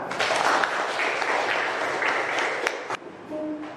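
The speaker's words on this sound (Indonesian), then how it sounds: "Tepuk tangan untuk kalian semua." Students in a classroom give a round of applause, a moderately loud burst of clapping that thins out and softens toward the end.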